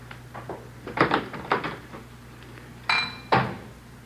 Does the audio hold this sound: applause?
no